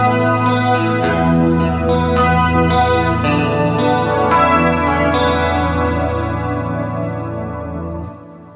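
A distorted electric guitar plays the rhythm part of a song, ringing chords with chorus-like shimmer struck in a steady sequence and left to sustain before cutting off near the end.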